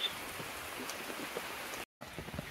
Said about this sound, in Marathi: तो पण पाऊस जोरात आला